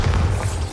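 A Bombarda spell detonates in Hogwarts Legacy, a short, deep, loud boom with a low rumbling body that fades quickly within a second.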